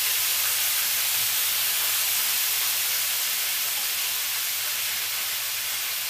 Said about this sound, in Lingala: ndenge mazoto kokalinga